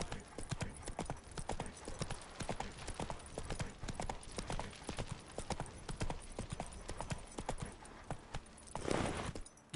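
Steady clip-clop of horse hooves on a hard surface in The Witcher 3: Wild Hunt, many quick rhythmic hoofbeats close by, with a brief louder rustle near the end.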